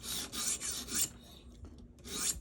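An Ozark Trail ten-dollar Walmart knife is drawn across a sharpening stone in a series of repeated rasping strokes, close and steady, followed by a pause and another stroke, with no talking.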